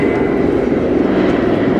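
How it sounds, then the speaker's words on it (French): A C-47, the military version of the DC-3 propeller airplane, drones loudly and steadily at an airshow, a continuous heavy engine roar with no break. "Un C-47, la version militaire de cet avion d'anthologie qui est le DC-3."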